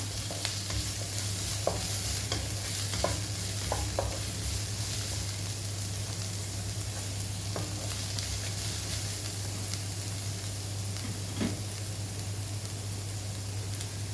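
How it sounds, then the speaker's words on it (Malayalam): Onions softening in a pan for a palak dish give off a continuous, even frying hiss over a low steady hum, with a few soft taps of a stirring spoon scattered through it and no talking. "സവാള നമുക്കൊന്ന് വാട്ടിയെടുക്കാം"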